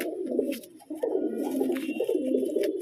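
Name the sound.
pigeon cooing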